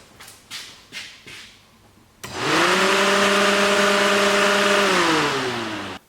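Radiator cooling fans on a diesel truck kick on through a relay with a sudden surge, running as a loud steady whir with a humming tone for several seconds before cutting off, preceded by a few faint clicks.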